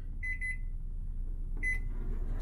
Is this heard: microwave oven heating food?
yes